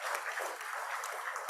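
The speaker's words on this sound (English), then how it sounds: "Please, another round of applause for our esteemed guest" An audience applauds a guest at an agribusiness and food security event, a dense steady clapping throughout.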